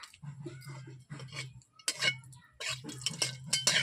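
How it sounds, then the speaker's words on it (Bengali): Dried red chilies fry in hot oil in a wok while a spatula stirs them, giving soft scraping clinks over a steady low hum, with brighter sizzling bursts in the second half. "শুকনো লঙ্কা আমি নেড়ে নিচ্ছি, লাল করে ভাজবো।"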